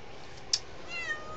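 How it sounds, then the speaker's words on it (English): A house cat gives a short, clear meow close by, followed by a faint rising squeak, with no talk. "Are you gonna meow for the camera?"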